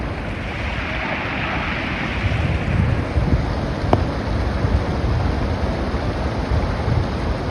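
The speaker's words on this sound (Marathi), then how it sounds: "हा बघा ना तो वॉटरफॉल खतरनाक" A waterfall in Murbad, Thane, near the Bhimashankar sanctuary gives a broad, constant roar of falling water mixed with wind buffeting the microphone. One brief click breaks the steady wash, and no voices are heard.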